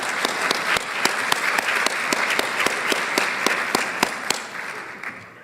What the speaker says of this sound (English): Let's give another round of applause to our first Assistant Deputy Governors.